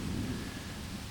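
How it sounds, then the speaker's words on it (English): Steady rain pours during a thunderstorm near a lake, a dense continuous hiss with a deep low rumble underneath, loud and unbroken throughout. "Well, the rain started, so couldn't capture any more lightning unprotected."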